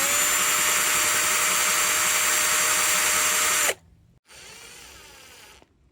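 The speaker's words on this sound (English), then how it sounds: "Started with a 2mm and now I'm using a 4mm drill bit." A power drill with a 4mm bit whines steadily at high speed for several seconds, stops abruptly, then briefly spins again more softly before cutting out, during an e-bike rear light repair.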